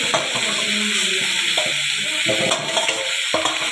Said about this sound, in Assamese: দেখিছে নহয় গাহৰি মাংস মই এতিয়া কেৰাহীখনত দি আছোঁ।